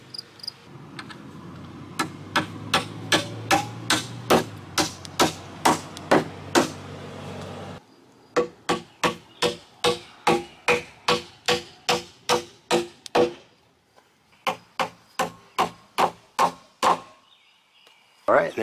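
Metal joist hangers are hammered onto wooden joists of a ground-level floating deck, a long run of sharp, evenly spaced near hammer strikes over a low hum that drops away midway.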